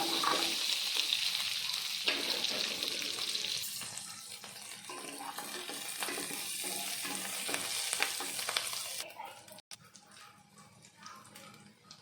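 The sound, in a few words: green chillies, onion and garlic frying in a pan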